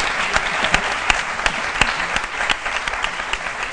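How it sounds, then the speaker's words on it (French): Loud, sustained applause from a studio audience on a French-language midday television show, dense clapping with sharper individual claps standing out, no voices over it. "donc on peut l'applaudir très fort alors"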